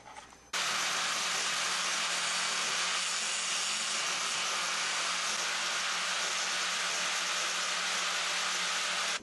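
A Makita power tool grinding down a halibut hook, a loud continuous high whine that starts abruptly and runs steadily without a break, with no voices.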